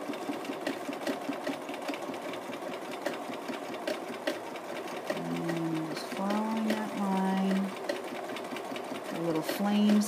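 A sewing machine fitted with a clear darning foot stitches steadily, its fast mechanical whir running continuously up close while a person talks over it.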